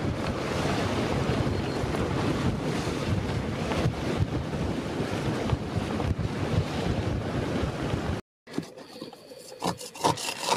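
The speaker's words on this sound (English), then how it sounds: "we've got about 20, 22 knots of wind" Strong 20–22 knot wind roars across a microphone aboard a sailboat making about 4.5 knots, with rough, confused sea sloshing steadily around the hull; the loud roar cuts out briefly near the end, then returns.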